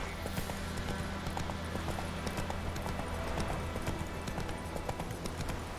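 Horse hooves clip-clopping steadily in The Witcher 3: Wild Hunt, a quick, even rhythm of trotting hoofbeats with a quiet background of ambient game sound, no one speaking.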